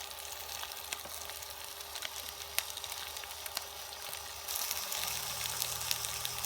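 Zucchini frying in oil in a pan, a steady crackling sizzle that grows louder and fuller partway through, with no talking.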